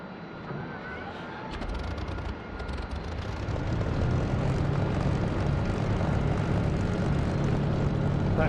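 An aircraft piston engine, warm and primed, starts up in the DCS flight simulator. It is quiet at first, then a steady propeller drone builds after a couple of seconds and holds.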